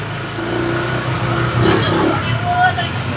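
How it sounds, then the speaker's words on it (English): Busy, hectic street traffic in Bali, with cars and motorbikes passing and revving nearby in a steady wash of engine noise, a brief surge of acceleration midway, and talking under it. "As you can see, typical Bali traffic,"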